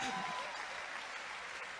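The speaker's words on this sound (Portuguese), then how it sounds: "Vamos, aplauda Salomão, isso é certo." A church congregation applauds during a Portuguese-language sermon, a steady wash of clapping with some voices and an opening murmur of talk mixed in, fairly faint throughout.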